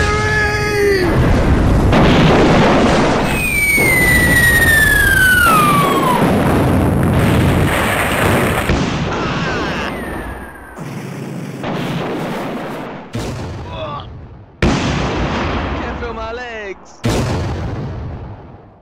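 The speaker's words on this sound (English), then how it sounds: "German artillery!" German artillery shelling in a Lego World War II Battle of the Bulge animation, heavy booming explosions and whistling incoming shells, loud and repeated, with shouting voices and sharp impacts toward the end.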